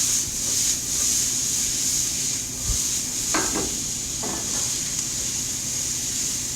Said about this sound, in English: Here I have some onions diced. Drop them into the hot oil.